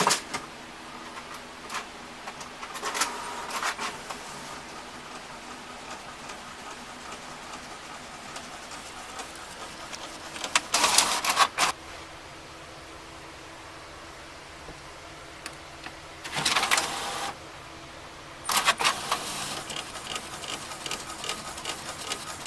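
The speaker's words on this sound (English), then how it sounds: "I'm going to tell it to print. And I want 2 copies because I have 2 candles." An inkjet printer at home running two copies of candle covers, with a quiet hiss broken by several loud whirring passes of the print head, about four bursts spaced several seconds apart, close by, with no talking.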